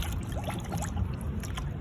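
Water draining steadily through a newly installed shower drain, a continuous close gurgling trickle with faint splashing, no talk.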